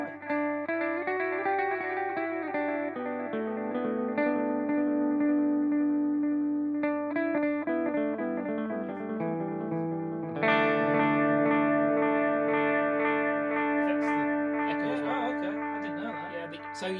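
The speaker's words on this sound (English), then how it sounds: "The echo, the tape echo of the RE20, you can sculpt the EQ on it." Guitar notes run through an RE20 tape echo unit, sustained chords and picked lines trailing warm, repeating echoes that smear into a dense, continuous wash, loud and with no talking.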